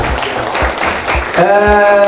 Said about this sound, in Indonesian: tepuk tangan, aplaus dan gemuruh untuk kita semuanya